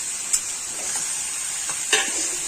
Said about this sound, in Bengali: এখন খাসির মাংসটা দিয়ে দিচ্ছি।